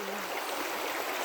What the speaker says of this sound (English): All right, I'm gonna walk through this water.